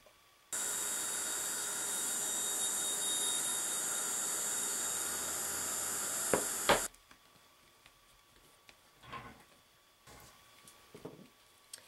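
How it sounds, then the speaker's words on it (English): A heat gun blows a loud, steady hiss of hot air over a Friendly Plastic pellet surface for about six seconds. It then cuts off, leaving faint handling noises and a few soft knocks. "Okay, I reheated this area with my heat tool"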